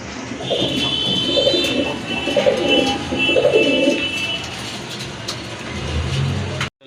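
A male pigeon cooing from a perch below, repeated low throaty coos in a steady rhythm, close and clear, with traffic and engine rumble in the background.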